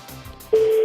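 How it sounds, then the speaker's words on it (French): A telephone tone begins partway through a call being placed to a political office in Corbeil-Essonnes, a single steady pitched tone sounding clearly after a brief stretch of faint background murmur. "Ça sonne."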